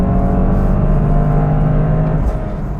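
A Toyota GR Corolla hot hatch's engine revs hard toward 7000 RPM, a loud steady drone with a sustained whine that holds throughout and eases slightly near the end, with no talking.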